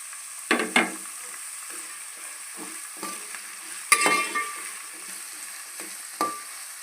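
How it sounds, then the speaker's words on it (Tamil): Small onions (shallots) and curry leaves fry in hot oil for a kara kuzhambu, a steady close sizzle broken by a handful of sharp stirring scrapes. "வெங்காயம் நல்லா எண்ணெயிலே வதங்கணும்"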